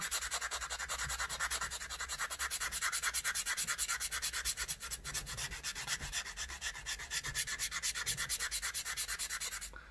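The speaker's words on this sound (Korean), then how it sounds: "사포를 조금 더 두꺼운 걸로 해가지고 한번 다시 해보도록 하겠습니다" Steady, continuous rasping of coarse sandpaper scrubbed back and forth in quick even strokes, close up and loud, with no talking.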